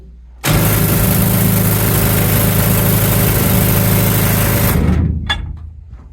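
A rock drill running in a mine at Cripple Creek, Colorado, roars in loudly and close, holding a steady harsh rattle for about four and a half seconds before cutting off and fading.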